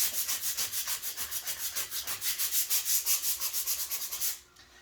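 Rhythmic back-and-forth sanding strokes scrub across a patched wall before fresh paint, a steady run of about twenty close, even rasping passes that stop abruptly near the end.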